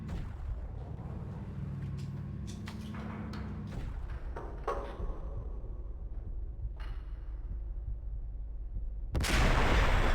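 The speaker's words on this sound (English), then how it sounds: "Maybe use the sniper rifle." Sniper rifle shots in the Max Payne video game on Xbox ring out as several sharp cracks in the first few seconds over a steady low rumble, followed by a quieter stretch and a louder burst near the end.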